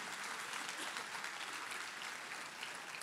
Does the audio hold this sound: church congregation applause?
yes